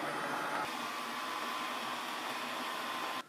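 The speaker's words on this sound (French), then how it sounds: "test du nouveau robot aspirateur laveur de sol de la société Narwal, le Narwal Flow" A Narwal Flow robot vacuum mop with a roller and built-in water tank runs with a steady, loud, close whirring drone that continues evenly and then cuts off abruptly at the end.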